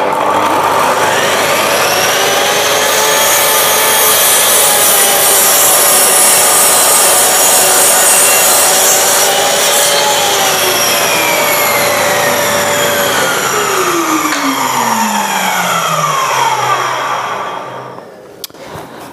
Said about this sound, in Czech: Ukážeme si, jak pila řeže a jak dobré odsávání